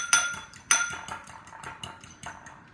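An egg is beaten in a bowl with utensils, giving a few sharp clinks against the bowl and then lighter irregular tapping and scraping, close and fairly quiet.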